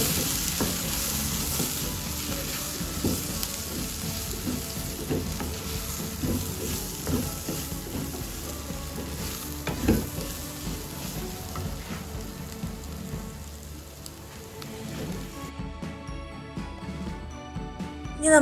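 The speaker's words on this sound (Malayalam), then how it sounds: "കഴിഞ്ഞ് നമുക്ക് നല്ലോണം ഇളക്കി കൊടുക്കാം" Onions and Kashmiri chili powder are stirred in a frying pan for paneer butter masala, with a continuous close sizzle and soft scraping strokes of a spoon throughout, and no talking.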